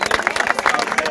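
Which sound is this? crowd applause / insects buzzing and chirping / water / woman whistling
crowd applause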